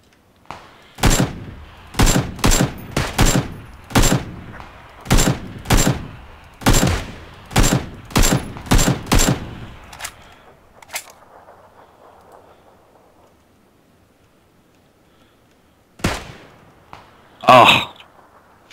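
Rapid bursts of gunfire from PUBG, a dense run of sharp shots for about ten seconds, then quieter ambience with a couple of isolated loud shots near the end.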